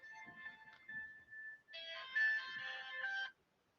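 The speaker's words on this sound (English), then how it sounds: "That was a phone call, but I've missed it." A phone ringtone for an incoming call plays alone: a steady single tone, then a louder, fuller melodic burst of about a second and a half that stops abruptly, with faint background sounds beneath.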